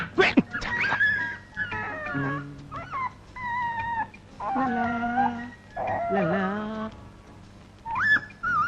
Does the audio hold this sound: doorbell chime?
no